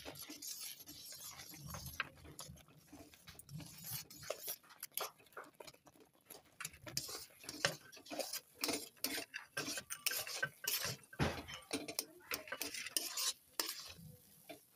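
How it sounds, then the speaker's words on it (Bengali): Semolina fried in ghee stirred briskly in a pan, a continuous run of scraping and clinking strokes with faint sizzling underneath, close and fairly loud, no talk. "সুজিটা দিয়ে ঘন ঘন নাড়াতে হবে।"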